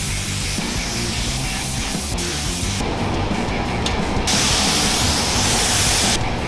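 Spray gun laying the first coat of paint on an off-road recovery Jeep, a loud continuous hissing spray that shifts in tone as passes start and stop.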